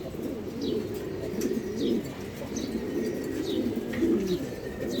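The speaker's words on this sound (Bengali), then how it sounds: "এখানে বেশ কিছু কবুতর আছে" Pigeons at a pigeon farm in Mirpur, Dhaka, coo in low repeated throbbing calls, with soft chirps and scattered clicks over a steady murmur of many birds nearby.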